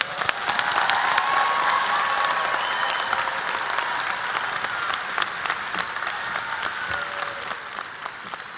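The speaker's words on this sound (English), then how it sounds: "Please join me in congratulating these graduates with a round of applause." Sustained audience applause at a nursing school spring commencement, dense clapping from a large crowd filling the hall steadily for several seconds.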